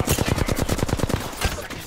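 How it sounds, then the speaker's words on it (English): Rapid bursts of automatic gunfire from an enemy squad in a shooter game, a dense rattling string of shots up close and then a few scattered ones. "Second squad is firing at us."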